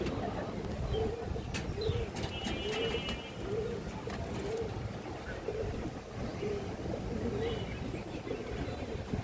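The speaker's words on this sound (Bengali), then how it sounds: "একজোড়া সবুজ গলা কবুতর দেখেন" A pair of green-necked pigeons gives soft, repeated low coos, fairly regular and faint beneath a steady broadband rumble and hiss, with a few brief clicks near the start.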